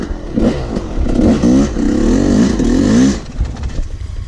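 Dirt bike engine on a hillclimb revving up hard for a jump, a loud close rising rasp that holds for a couple of seconds then drops back, with some clatter.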